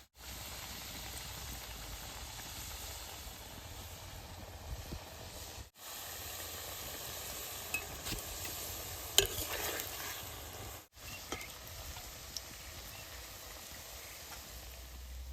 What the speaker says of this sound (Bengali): তেলটা গরম হয়েছে, নিমকিটা দিয়ে দিব।